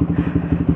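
Deep, throbbing exhaust of a Yamaha R15 motorcycle with a custom Termignoni racing exhaust, idling close by, a rapid pulsing beat with bassy rumble.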